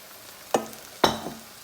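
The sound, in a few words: apple cider vinegar poured into cooking beef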